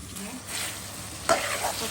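Spice masala for a hilsa and taro curry is stir-fried in a pan with a soft, steady sizzle. A spatula scrapes through it, and one sharper clack of utensil against pan comes midway. No voices.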